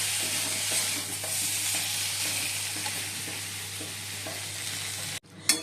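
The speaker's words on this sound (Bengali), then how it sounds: "ভালো করে কষিয়ে অল্প করে গরম জল দিতে দেবো" Egg and potato curry sizzles steadily in a hot pan while being stirred, a close continuous frying hiss with faint scraping, ending in a sudden clatter.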